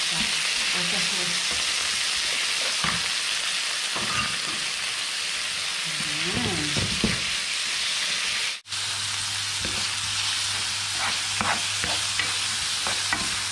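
Shrimp sautéing in a hot pan for pasta, a steady close sizzle and frying crackle with occasional stirring scrapes and clinks throughout, with no talk.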